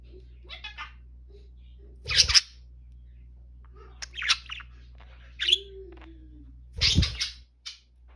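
A budgerigar's small chirps and warbling tweets in scattered bursts over a low steady hum, with a couple of louder, sharper calls close by.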